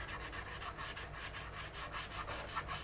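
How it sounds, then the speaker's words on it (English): A well-worn 180 grit sanding stick rubbed over the seams of a plastic starship model kit, a close, steady rhythmic scratching in quick repeated strokes of about four per second, with no voices. "This is a 180 grit sanding stick, and it's been well used"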